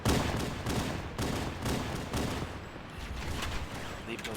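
Gunfire rattles in the Halo CE video game during a co-op campaign battle, dense rapid shots and bursts over continuous game noise, loud and busy throughout.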